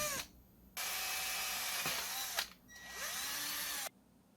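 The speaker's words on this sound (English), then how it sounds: "Now I'm drilling the main holes into the frame before I attach the top and the back." A power drill boring holes into the hardboard frame of a DIY Danelectro-style Telecaster guitar body, whining loudly in two long close bursts with a brief pause and pitch dips as the bit bites.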